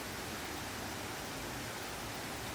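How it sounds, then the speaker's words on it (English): A small waterfall in a canyon cascades into a pool, making a steady, broad rushing hiss that stays even and continuous, heard alone at a moderate distance. "And a nice little waterfall right there."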